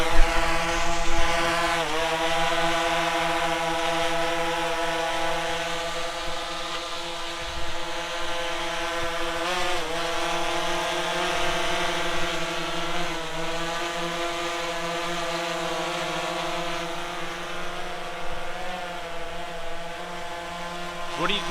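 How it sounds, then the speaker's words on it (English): A DJI Phantom 3 Professional drone lifts off and hovers, its rotors giving a steady, loud, high-pitched whine with stacked tones that waver slightly as it maneuvers, continuous throughout. "We have the DJI Phantom 3 Professional"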